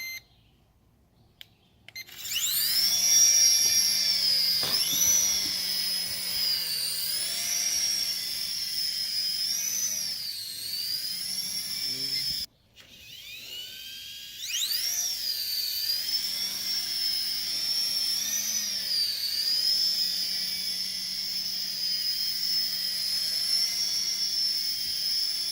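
A DeeRC Apache RC toy helicopter spools up, lifts off and hovers, its high, steady electric whine rising and falling as the rotor speed shifts, close and continuous with a short cut partway through.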